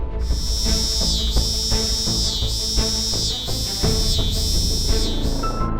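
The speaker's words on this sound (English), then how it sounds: "cicadas are insects that are famous for their buzzing sound in the summertime" A steady, shrill drone of cicadas with pulsing swells holds throughout, loud and close, over a dense background of other sounds.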